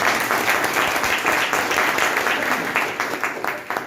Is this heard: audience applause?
yes